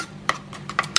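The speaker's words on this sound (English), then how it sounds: "I'm just going to give this a good mix" A chili, lime and tarragon dressing being stirred in a bowl, several quick scraping and clinking strokes of a utensil against the side, close and brisk, with no talk.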